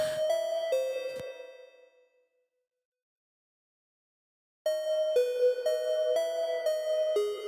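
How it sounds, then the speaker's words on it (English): Bright synthesized bell tones from Studio One 5 ring out in a short melodic pattern, fade to silence, then resume with another run of clear chiming notes. "I chose a bell sound"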